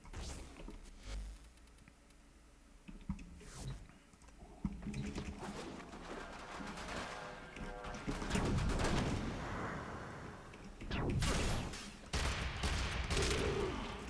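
Rapid bursts of gunfire from a gun in the video game Warframe crackle in clusters, with sharp impacts and game effects building into denser volleys toward the end.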